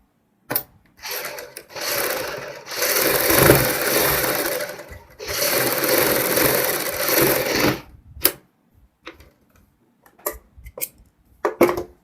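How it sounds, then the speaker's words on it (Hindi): A sewing machine stitches the neck of a kurti with buckram, running in two long bursts of several seconds each, then a few short stops and starts with quiet gaps, close and loud with no talking. "दोस्तों इनमें हम यहाँ पे सिलाई लगा लेते हैं।"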